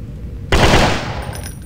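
Rapid burst of gunfire in a Resident Evil game, a loud sudden volley of automatic shots that starts abruptly then tails off into a fading ring, with no talk over it.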